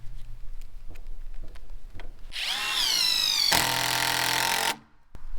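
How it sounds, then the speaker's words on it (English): A power drill drives screws into the wooden frame of a porch deck during a cabin remodel: a few faint taps, then a loud whining run that rises in pitch, then a steady high buzz before it cuts off, close and alone. "Put some screws in it."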